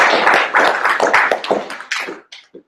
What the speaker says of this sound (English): We can give him a lot of applause.